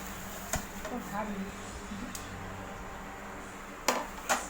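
Ceramic plates with a printed design on white, bought at a fair, clink and knock together in a few sharp, faint contacts against a quiet room background, with soft talk nearby.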